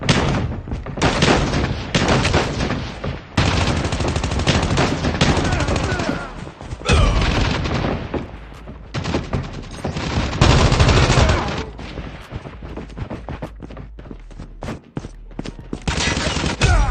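Rapid gunfire and bursts of shots from Call of Duty Mobile gameplay, including a Raygun, loud and near with dense volleys separated by brief pauses and scattered single shots.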